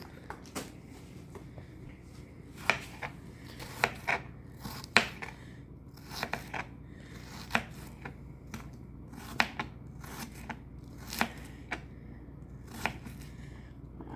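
Knife chopping a small amount of red onion on a board, a steady run of sharp, close taps with uneven rhythm and short pauses, no talking.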